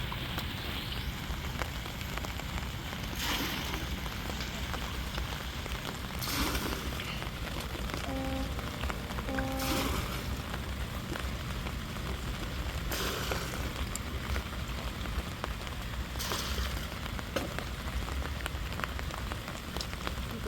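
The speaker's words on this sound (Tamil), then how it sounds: "மழை பேஞ்சுக்கிட்டு தான் இருக்குது நல்லா அடிச்சுக்கிட்டு இருக்குது" Heavy rain pours down steadily in a village, a dense, even hiss of drops pattering on surfaces that continues unbroken and fairly close throughout.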